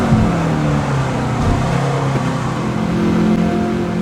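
A Ford Mustang Boss 429 race car's engine drones steadily in Gran Turismo 7, holding a sustained, loud, even pitch at speed through the whole stretch with no voices.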